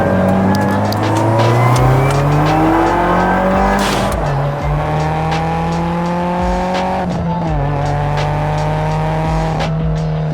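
A Subaru WRX with equal-length headers revs hard and climbs through several gears, each pull rising in pitch before a brief drop at the shift, loud and close throughout.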